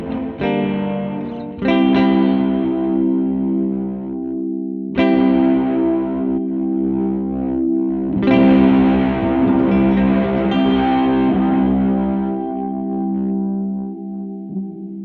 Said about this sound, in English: You can hear that modulation when that is set to sawtooth.